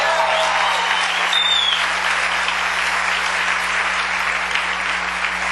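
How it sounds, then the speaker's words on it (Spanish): Congregation claps for the King in a sermon setting, a sustained wash of dense applause with a steady low hum beneath it and a brief whistle early on. "Denle un aplauso al Rey."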